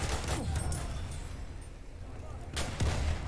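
Shotgun blasts in the World War I shooter Battlefield 1, two loud booming shots a couple of seconds apart, close and heavy, with low in-game rumble between them and no clear talk.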